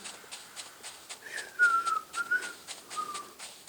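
A person tries to whistle, producing a faint, wavering, breathy tone in a few uneven notes, set against a rhythmic ticking background sound from a Fortnite match.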